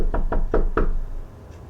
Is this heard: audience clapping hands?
no